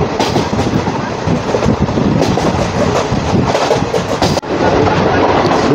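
Agartala-Karimganj DEMU train 75679 running at speed, a loud steady rumble of wheels and carriage with clattering rail joints and a brief dip near the end, heard from inside the coach.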